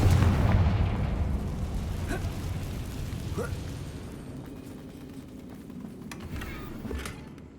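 A Confringo fire spell explodes in Hogwarts Legacy on PC, opening with a heavy low boom that decays into a rumbling, crackling fire tail, with faint later bursts and no talk.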